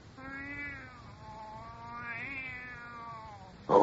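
A cat in a radio drama gives two drawn-out, wavering meows close up, ending with a short sharp burst.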